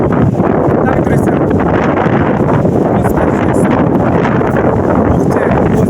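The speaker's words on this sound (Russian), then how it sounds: "возле моря еще сильнее ветер, друзья" Strong wind by a stormy sea buffets the microphone in a loud, constant roar, with someone talking over it.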